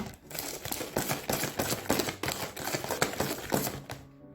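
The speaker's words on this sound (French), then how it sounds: "L'idéal, c'est de mélanger avec le fouet pour blanchir un petit peu votre mélange pendant 6 minutes." A whisk beats a tiramisu mixture of sugar in a bowl, making a steady, rhythmic run of close metallic clicks and taps, about two per second, with no talking.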